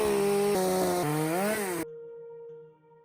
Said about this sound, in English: So to test the saws, I've been cutting cookies of 3 different sizes